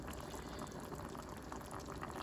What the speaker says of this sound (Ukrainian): Процес продвигається все кипить потрошечку.